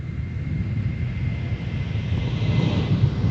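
An airliner lines up on approach to runway 4 at Minneapolis–St. Paul airport, a steady low engine rumble with broadband roar holding at an even level throughout, no voices.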